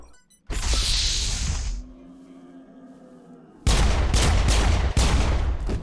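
Loud bursts of gunfire from a firefight in the game Mass Effect: a dense volley up front, a quieter lull with low rumble, then sustained rapid automatic fire through to the end.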